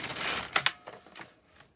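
An LK150 knitting machine carriage pushed across a row, giving a short burst of rattling mechanical clicks that fade into a few lighter ticks, close and alone.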